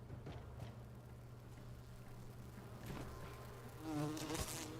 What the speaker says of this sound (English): I'm getting attacked by bees.